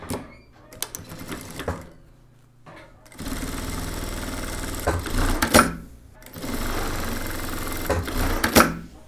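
A sewing machine stitches boiled wool coat pieces in two long, steady mechanical runs with a short rattling burst at the start, separated by quiet pauses and ending each run with a clunk.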